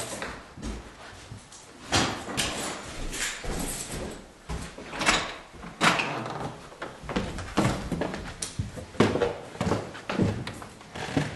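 A series of knocks, clunks and scrapes as a heavy church door is opened and shut, with rustling movement and footsteps in between, fairly close.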